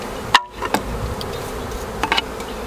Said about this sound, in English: So you shake bees and swipe them off all the equipment.